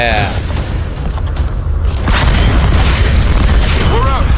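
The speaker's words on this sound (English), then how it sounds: "They are really burning out the explosion budget here." Explosions in the Tomb Raider video game, deep booming rumbles and bursts that swell and carry on continuously, loud and close, with a brief whistling sweep near the end.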